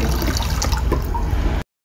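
Air sputters and hisses out of a household water tap before the water flows, a steady, loud, turbulent gush that spits irregularly, then cuts off abruptly.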